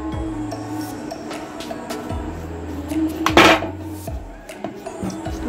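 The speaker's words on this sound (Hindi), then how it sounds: "तो ये अब हम डालेंगे फ्रेश एलोवेरा जेल। तो इसको मैं पहले काट लेती हूँ।" A knife cuts through a fresh aloe vera leaf on a hard surface, giving scattered close knocks and one brief, bright slicing scrape midway, over a steady low background hum, with no talking.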